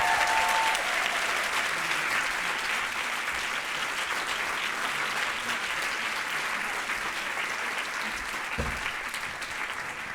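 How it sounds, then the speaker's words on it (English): Sustained, full-bodied applause from an audience at an academic medical center event, a broad steady wash of many hands clapping that holds for about ten seconds and eases only slightly toward the end. "can we give her a round of applause, please?"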